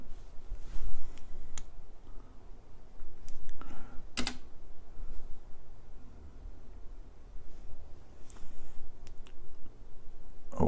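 Keys are pressed on a TRS-80 Model I computer keyboard, sparse clacking keystrokes with pauses between them, close and fairly quiet over faint room noise.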